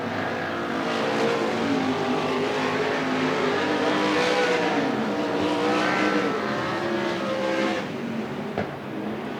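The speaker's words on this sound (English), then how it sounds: "White flag is going to be shown and thrown to your leader, Brett McGuy." Interstate Sprint Car Series sprint cars roar around Willamette Speedway during a heat race, a continuous loud engine drone with rising and falling pitch as cars pass, steady throughout with no pauses.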